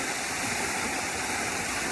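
Waterfall rushing steadily on a family hike, a dense, continuous roar of falling water close by with no pauses and no voices.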